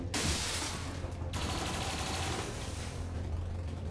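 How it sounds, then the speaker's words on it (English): Rapid turret gunfire rattles in dense, continuous bursts during an XCOM 2 battle, loud and sustained without pause, with no talking. "The turret is firing on Gertrude?"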